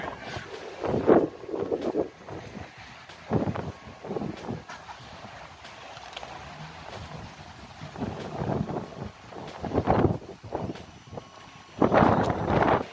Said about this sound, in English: It's so windy, dude.